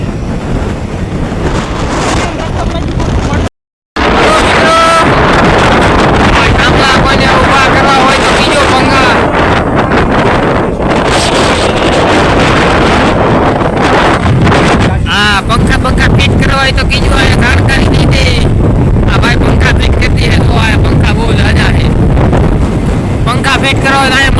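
Strong wind in Atkot, Gujarat, roars and buffets the microphone continuously, loud and steady, with a brief dropout early on.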